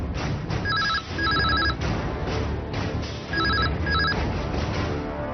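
A telephone rings in a Kannada TV crime drama scene. The trilled bell sounds in two double bursts over steady background noise.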